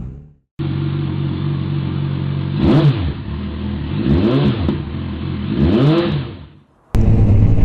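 A motorbike at the start of a road trip, its engine idling loudly close by, then revved three times in rising and falling sweeps before cutting off briefly and starting again.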